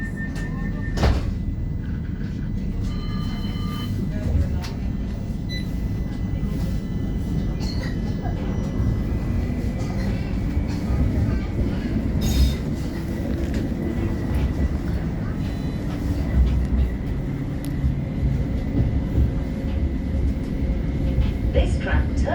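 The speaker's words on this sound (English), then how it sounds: "Hold tight. This tram is about to depart." A West Midlands Metro tram, number 31, pulls away from St Paul's stop with a continuous low rumble, faint whine and occasional clunks and rattles throughout.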